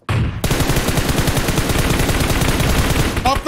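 Sustained rapid gunfire in PUBG Mobile, loud and continuous automatic bursts after a brief quiet start, with a short electronic effect near the end.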